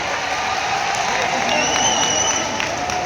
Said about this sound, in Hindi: एक बार जोरदार ताली से पुनः देश के गौरव माननीय प्रधानमंत्री जी का अभिवादन